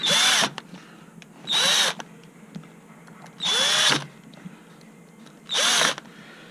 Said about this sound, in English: And just fasten up these 4 screws.